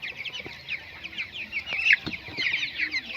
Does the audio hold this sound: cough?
no